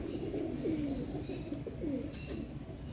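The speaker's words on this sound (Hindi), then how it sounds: "ये वो कबूतर है जिसको मौका ही नहीं मिला इस दफा।" Several racing pigeons at a champion loft coo in a dense, close chorus, with a few clearer rising-falling coos standing out from the steady low burble.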